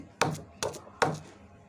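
Garlic being pounded into a paste with a mortar and pestle: three sharp, evenly spaced thumps about half a second apart, close and distinct, with quiet between them.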